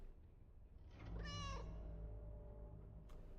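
A single cat meow in a video game, short and clear, rising and then falling, over a low background hum.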